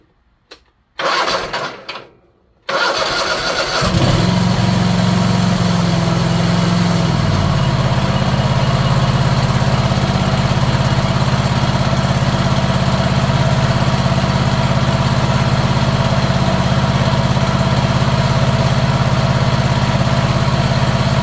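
A small Kohler KT730 engine with newly replaced ignition coils sputters and catches, then settles into a steady, loud idle that drones on without pause.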